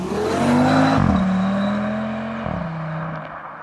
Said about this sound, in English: I can hear the lovely burbles of the engine